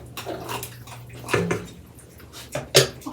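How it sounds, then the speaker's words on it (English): Okra is stirred into a pot of simmering chicken and sausage gumbo, giving a few wet sloshing swishes and soft spoon scrapes, close and moderately quiet. "And we'll give this a stir."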